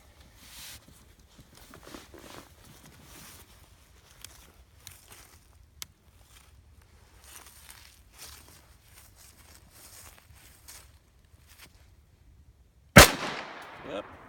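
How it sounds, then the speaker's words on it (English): A single sharp pistol shot from an FNX 45 Tactical fitted with a red dot sight, fired at an outdoor range near the end, preceded by quiet rustling and faint footsteps. "I'm gonna try to put a few rounds down range"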